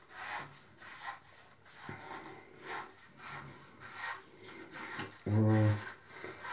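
An Omnishaver head-shaving razor cutting hair makes repeated close, raspy scraping strokes in a steady back-and-forth rhythm, with a brief louder buzzy burst near the end.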